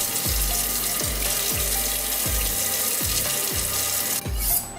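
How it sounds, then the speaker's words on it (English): Steady running tap water splashes continuously into a sink while hands are washed, loud and close, with no speech over it. "As with any meal, start by washing your hands."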